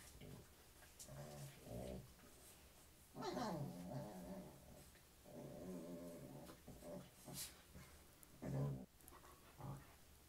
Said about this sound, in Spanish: Mis perritos ya andan juguetones